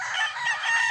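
A six-month-old gamefowl rooster crows loudly and close by, one sustained strained call held for the full second with no talking.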